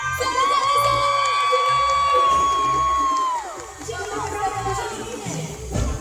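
A concert crowd at Sala Palatului whoops and cheers while a singer holds a long sustained note over the music during a set, the cheering continuing loudly beneath the vocal.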